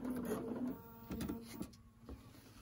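A sewing machine makes a short burst of tacking stitches during ruler-guided quilting with a leaf template. The mechanical whirr is close and steady, then pauses and resumes briefly, with no talking.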